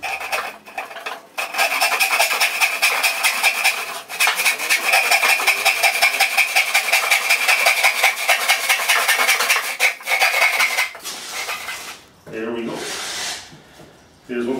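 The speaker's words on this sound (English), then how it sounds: "I'm going to cut it in half with my bore saw again." A saw cuts a wooden board in half for a suitcase table project, giving rapid, steady rasping strokes in long runs separated by brief pauses, before ending in scattered knocks and handling noise.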